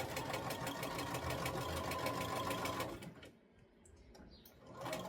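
A sewing machine runs basting stitches along a 5/8 seam allowance on a bodice, steady and close for about three seconds, then slows to a quieter, uneven stitching before picking up again.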